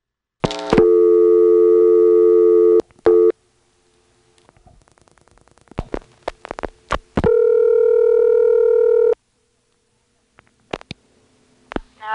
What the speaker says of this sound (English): here's dialing 1 followed by 0.